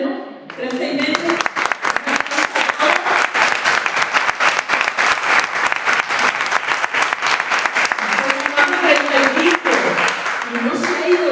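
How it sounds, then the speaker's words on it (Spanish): An audience applauding at a talk, dense sustained clapping from a crowd that swells quickly and carries on steadily for several seconds before thinning slightly. "Y vamos a dar un aplauso, ¿no?"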